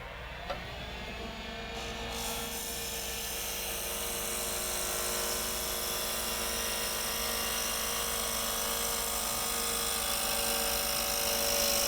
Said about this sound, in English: At this point, we'll do a planing cut.